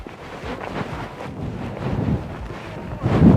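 Wind gusts buffet the microphone during a tent setup in the open, a steady rumbling roar that swells louder near the end, with no talk.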